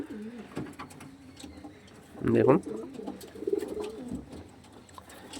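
High-flying pigeons coo in their enclosure, several soft throaty coos rising around the middle, with someone speaking intermittently over them.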